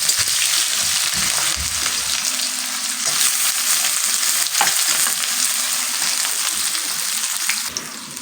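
Onion dropped into hot oil with cloves, cardamom and cinnamon, frying with a loud, steady, close hiss and crackle that runs throughout, with occasional stirring.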